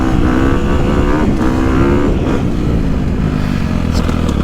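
A 2021 Gas Gas EX250F dirt bike engine runs loud and steady while being ridden, its continuous drone holding close throughout without any talk.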